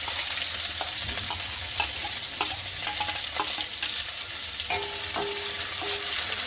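Onions sautéing in a pan with ginger and chilli for a green pigeon pea curry, giving a continuous close sizzle with scattered stirring clicks and scrapes, no talking.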